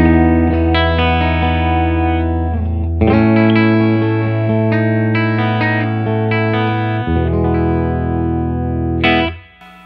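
Clean electric guitar chords ring out through the clean channel of a Fender Hot Rod Deluxe amp with noticeable reverb, strummed in a few sustained phrases before fading at the end.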